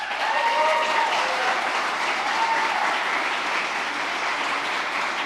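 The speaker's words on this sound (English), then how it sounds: "Let's give them a round of applause." An audience at a school principals' town hall on gun violence prevention applauds the principals' associations, with dense, even clapping throughout and no speech over it.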